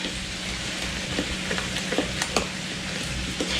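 Sweet cornbread batter being stirred in a bowl, a soft continuous wet swishing with a few light clicks and taps of the utensil, close and fairly quiet.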